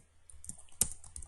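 Typing C code for a switch-case program on a computer keyboard: scattered soft key clicks with one sharper tap, quiet and close, with no talking.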